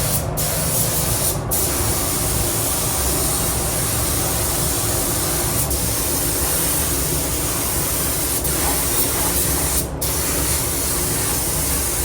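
A spray gun lays primer onto a Land Rover Defender body in a warm workshop, giving a steady, loud hiss that runs unbroken for the whole stretch, with a few brief clicks or pauses of the trigger.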